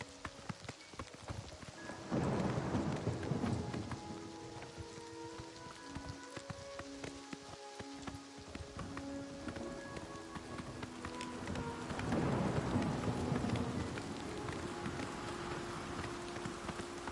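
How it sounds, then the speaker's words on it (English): Steady rain falls in the fantasy game Oblivion Remastered, a dense hiss with two heavier, rumbling swells that could be thunder and some faint clopping like hooves in between; no one speaks. "But of course, it's going to rain again."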